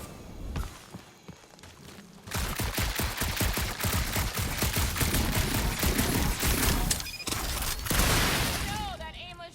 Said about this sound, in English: that aimless shooting isn't gonna scare the monsters away